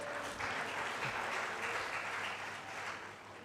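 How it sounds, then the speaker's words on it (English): Sustained audience clapping at a health and wellness symposium, an even wash of many hands that holds steady and then eases slightly toward the end, heard at a moderate distance without speech. "can you please give him a round of applause?"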